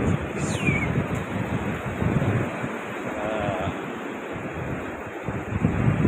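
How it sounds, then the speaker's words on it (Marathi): Steady roar of sea waves washing in on Arambol beach, Goa, mixed with wind buffeting the microphone, continuous and fairly loud with no talking. "लाटा मस्त येतात ना समुद्राच्या जवळजवळ असं"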